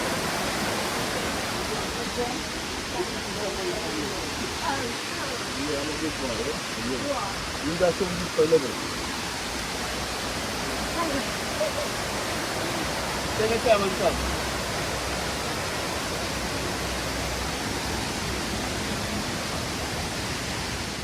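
Water rushes steadily at Dunn River Falls in Jamaica, a dense, constant cascade filling the whole stretch, with faint voices now and then beneath the roar.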